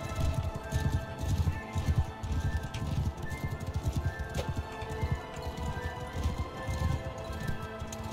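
Rapid, rhythmic hoofbeats of a galloping horse in the video game Mount & Blade II: Bannerlord pound steadily throughout, with a low rumble and faint background music.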